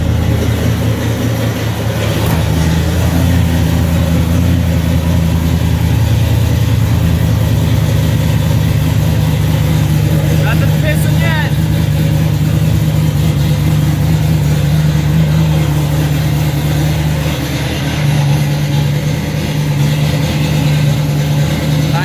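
Swapped C4 engine in a 1995 Mustang idling after its first start, a loud steady low rumble close by with slight fluctuations and faint voices underneath.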